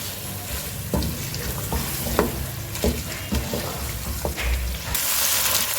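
Shinwari chicken cooking in a pan: a continuous, close sizzle broken by repeated clacks and scrapes of a spoon stirring, with a louder burst of frying hiss near the end.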